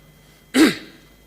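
A single short, close throat-clearing cough in a Senate chamber, sharp and rough, lasting under half a second against a quiet background.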